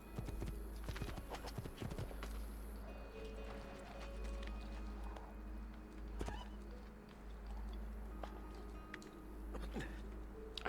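Horse hooves in Assassin's Creed 2 clatter in a steady, moderately loud clip-clop rhythm over a low game rumble, with little talk.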